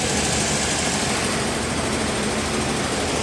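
A car engine idles at about 1500 RPM, a steady broadband hum with a low rumble that holds even and continuous throughout, close by with no talking.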